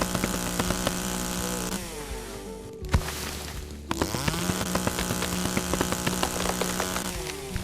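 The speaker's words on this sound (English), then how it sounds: "Chainsaw not quite as peaceful as the axe" Video game chainsaw cutting birch trees, a buzzing two-stroke whine that rises and falls as it bites into wood, briefly cutting out before revving back up, loud and close.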